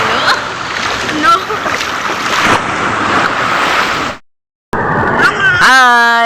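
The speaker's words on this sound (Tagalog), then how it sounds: "Ang lakas ng alon mga idol." Strong sea waves crash and splash near swimmers, loud surging water with a short dropout, followed by people talking over the surf.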